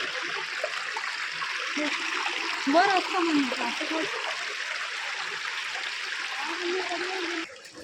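River water rushes steadily over rocks in the Dugve river near Ratnagiri in the Konkan, a constant loud wash with a voice briefly heard over it.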